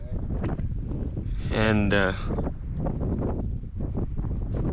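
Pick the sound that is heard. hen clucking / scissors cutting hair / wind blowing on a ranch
wind blowing on a ranch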